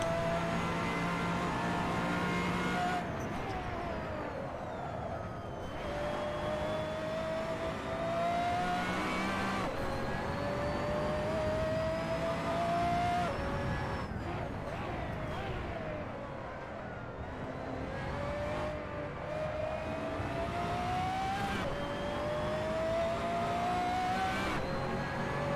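A racing car engine in Assetto Corsa drones and revs continuously, pitch rising through gears with a stuttering, gargling edge as traction control cuts power in and out.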